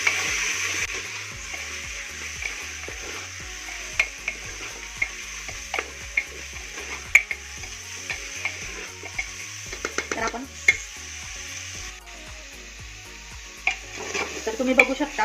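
Mutton seasoned with turmeric and salt for a Nagpuri Saoji mutton curry is stirred in a hot pan, with steady sizzling under repeated scraping and clinking of the spoon against the metal, close and continuous.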